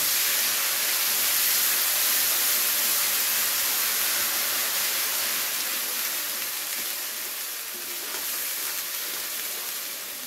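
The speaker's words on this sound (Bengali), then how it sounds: "পেঁয়াজ বাটাটাকে খুব ভালো করে ভেজে নেব একটু" Onion paste frying in hot oil for a fish dish, a steady broadband sizzle that stays fairly loud and even throughout, fading slightly toward the end, with no talking.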